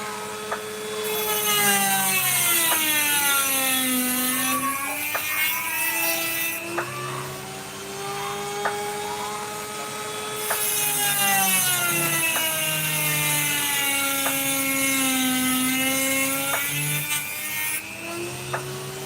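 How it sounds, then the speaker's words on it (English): A rotary carving tool whines with sweeping pitch as it grinds into opal, rising and dipping in long continuous passes, with brief dips in between. "I'll carve that straight off."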